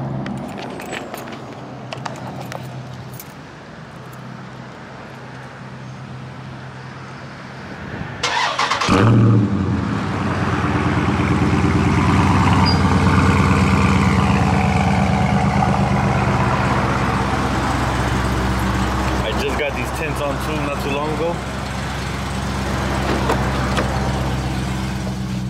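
A 2018 Dodge Charger Scat Pack 392 V8 cranks and fires up after a quiet stretch, then idles with a deep, rumbling burble and a few throttle blips, loud and close.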